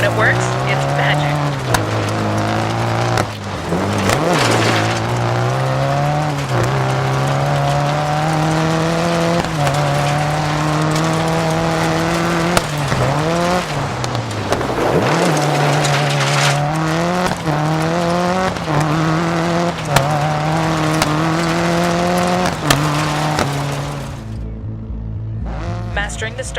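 Rally car in the Dirt 4 video game sliding and accelerating, a loud continuous engine drone rising and falling through gear changes, with tire scrub and skidding, ending in a quieter idle; a voice talks over it.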